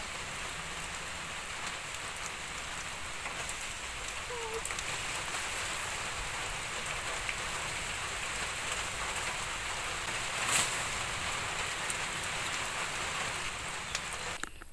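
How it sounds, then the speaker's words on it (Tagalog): Steady rain drums on a newly tied roof over an outdoor cooking area, a dense constant patter that holds evenly throughout, with no clear voices. "Inabutan na ng ulan"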